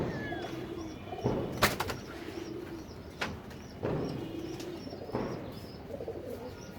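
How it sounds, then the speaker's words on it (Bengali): Soft, repeated cooing from a beji pigeon, a lace-feathered domestic breed, heard close up in several low rounded phrases with brief rustles and a knock between them. "এটা হলো আমার বেজি কবুতর।"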